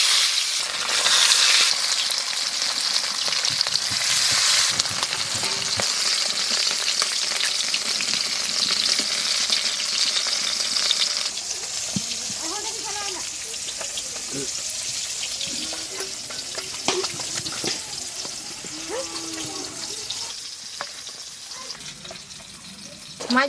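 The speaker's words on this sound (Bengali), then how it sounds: "তেল গরম হয়ে গেছে, মাছগুলা দিলে।" Small fish dropped into hot oil for a jackfruit curry spit into a loud, dense sizzle that gradually eases, with bubbling oil and occasional scraping under quiet background voices.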